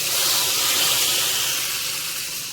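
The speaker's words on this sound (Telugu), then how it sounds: "ఇప్పుడు మనం పోపు ఇందులో వేసేసుకుందాం" A loud, steady hiss as a hot oil tempering is poured into a mustard-paste curry, broadband sizzling that fades slightly over a couple of seconds, with no voices.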